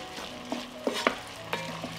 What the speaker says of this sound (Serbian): nastavit ću da pržim dok paprika i paradajz ne omekšaju